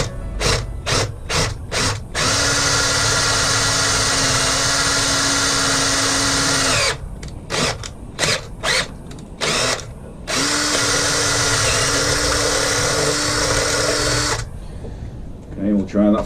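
A power drill bores a hole through a Harley Davidson brake pedal in bursts, a loud whining motor that runs for several seconds, stops, and starts again, broken up by short clicks and clatter in between.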